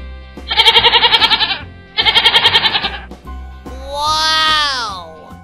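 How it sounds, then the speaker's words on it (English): Two loud, wavering goat bleats in quick succession, followed by a longer, rising-and-falling bleat, close and clear. "Wow. Goat."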